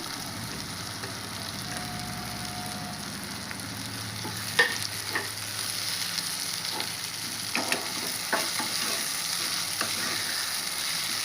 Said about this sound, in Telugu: ఇందులో నేను కొద్దిగా మరి కరిపాకు వేస్తున్నాను చిన్నగా కట్ చేసి పెట్టినా కదా కరివేపాకు వేసాను